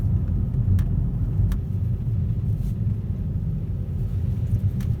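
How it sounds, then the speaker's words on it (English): Car driving along a snowy winter road, heard from inside as a steady, loud low rumble of engine and tyres with a few faint clicks, no talking. "people might enjoy taking a little drive with me"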